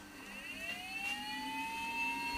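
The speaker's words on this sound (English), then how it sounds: "you can probably hear it taking off like a jet plane." The fans of a T962A reflow oven power up and rise into a steady whining roar like a jet engine spooling, with a pitch that climbs over a couple of seconds, close and alone.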